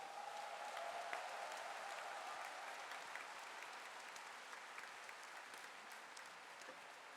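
Sustained applause for an orchestra from a large concert audience, a dense even wash of clapping heard at a distance that holds steady and slowly fades slightly.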